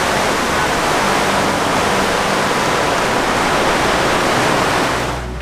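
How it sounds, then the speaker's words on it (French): Sea waves surging inside a sea cave near Oban and Mull in Scotland, a dense continuous roaring wash of water that stays loud and hissing before tapering off at the end. "t'entends tout le bruit des vagues dedans."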